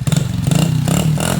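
Small pit bike engine idling steadily up close after its carburetor was cleaned of gunk in a jet, a low even putter with light mechanical clatter throughout.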